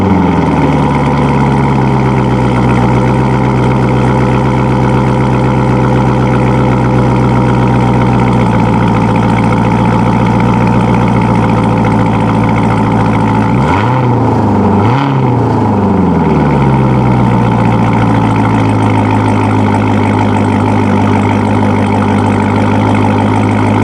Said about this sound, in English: give you a ZR1 exhaust note when I'm filming right now at 3 o'clock in the morning. Yeah, let's fire this bad boy up.